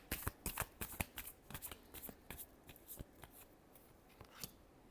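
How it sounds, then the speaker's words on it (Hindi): Tarot cards riffled in a final shuffle, a quick run of crisp, close flapping bursts that come in irregular clusters over a few seconds, with no voices. "Last shuffle."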